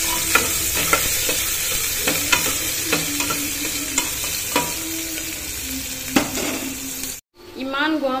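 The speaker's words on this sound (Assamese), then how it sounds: "পিঁয়াজখিনি অকণমান ভাজিম গোল্ডেন ব্ৰাউন হোৱালৈকে" Onions fry in hot oil in a pressure cooker, a constant close sizzle broken by regular sharp scrapes and knocks of a stirring spoon, ending in a brief cut.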